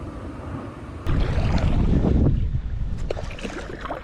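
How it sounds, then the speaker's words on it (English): Wind gusts across a lake, rising into a strong rushing buffet against the microphone with lapping water underneath, then easing a little toward the end. "this wind's really picked up"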